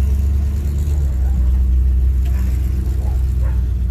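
A 1967 Chevy C10 pickup engine idles steadily, a continuous low, heavy rumble close by with a faint, even throb and no revving.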